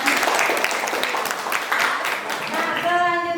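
A classroom group claps for a student who has just finished presenting in a guidance and counseling lesson, a short burst of scattered applause that fades as a tonal chime sounds at the end.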